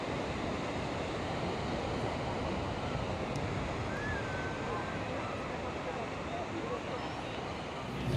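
Pacific Ocean surf on Australia's east coast rolls in as a steady, dense roar of breaking waves mixed with wind rumble on the microphone, constant and loud throughout with no distinct pauses.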